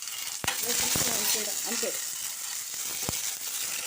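Tempering spices fry and sizzle steadily in a pan, a continuous crackling hiss with a couple of sharp clinks of a utensil; a brief spoken word near the end.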